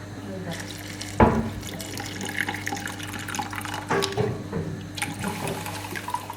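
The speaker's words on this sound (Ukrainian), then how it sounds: "Наливаємо оцет." Vinegar pouring into a container holding rusty keys, a close splashing trickle with a sharp splash near the start and further liquid bursts, alongside background noise.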